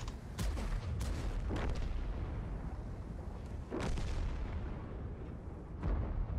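Tank cannon fire in World of Tanks, with several booming shots spaced irregularly over a steady low rumble of battle noise, and no voices.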